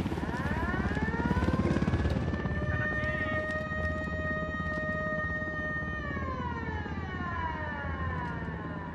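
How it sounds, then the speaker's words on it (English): A steady helicopter drone in the video game Ghost Recon Wildlands, with a rising, then falling tonal whine, loud and continuous throughout, layered over a low rumble. "Chopper's approaching."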